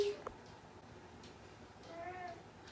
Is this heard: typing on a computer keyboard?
no